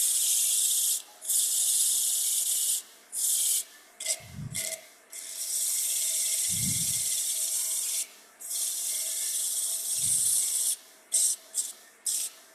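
Sandpaper rubs a wood-turned Christmas tree spinning on a lathe, making a loud, steady, close hissing rasp broken by brief pauses, with a few soft low thumps.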